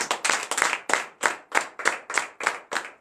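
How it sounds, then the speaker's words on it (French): A church congregation claps in rhythmic unison during morning prayer, about ten sharp, evenly spaced beats, loud and close, with no talking. "Donnez de l'acclamation à l'Éternel."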